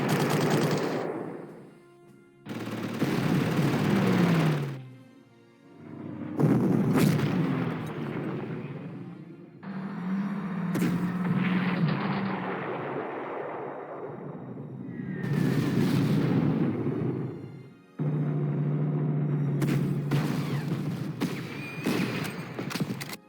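Air strike on a tank in the Panzer Corps strategy game, heard as a string of loud, close, booming explosions and gunfire bursts in clustered blasts with brief gaps between them.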